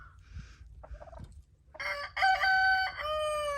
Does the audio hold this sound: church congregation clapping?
no